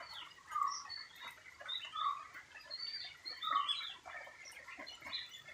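An oriental magpie-robin calls outdoors in a green natural setting as rain picks up, giving a series of sweet whistled phrases and chirps at moderate distance, faint but clear over a soft ambient hush.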